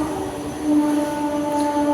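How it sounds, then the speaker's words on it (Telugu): A train rumbles past close by, a steady mechanical drone with sustained tonal whine from the wheels and cars, no voices. "అగో ట్రైన్ వస్తుంది చూడు ట్రైన్"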